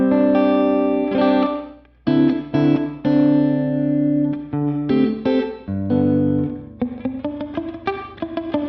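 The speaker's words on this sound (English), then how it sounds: "if you sit in these kind of lower decay settings and turn up the reverb" Electric guitar through a Sonicake Levitate pedal's plate reverb on a low decay setting plays chords and single notes with a short, bright reverb tail that rings briefly after each strum, no talking.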